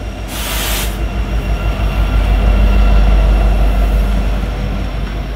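A train rolls past up close on a cold, windy prairie, its wheels grinding loud and steady on the rails, with a brief hiss near the start.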